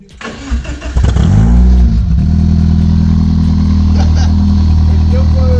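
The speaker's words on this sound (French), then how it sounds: "Est-ce qu'on démarrait pas pour voir le bruit de ton moteur énervé?" A tuned drift car's engine cranks, catches and roars to life, revving briefly before settling into a loud, steady idle close by, with a voice briefly speaking.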